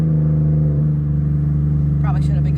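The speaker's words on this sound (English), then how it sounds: "When you're ready to launch the car, you're going to hold the cancel button down, and then you're going to hold the gas to the floor" A car with an Uprev tune held on launch control at full throttle: a loud, steady engine drone at constant revs, with a brief voice near the end.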